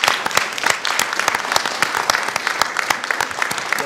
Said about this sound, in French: on va applaudir pour le troisième passage